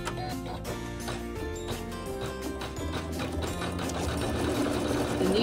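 A Navigator sewing machine stitches a quilt block in a fast, steady mechanical run close by, without talking.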